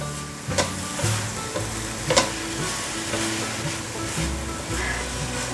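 Vegan filling seasoned with white pepper is stir-fried in a pan for bitter melon stuffed with tofu skin, giving a steady close sizzle broken by a few sharp scrapes and clatters of the spatula turning it.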